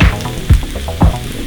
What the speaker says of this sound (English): You wanna let the zucchini get nice and golden and crispy, and the onions are gonna start to caramelize.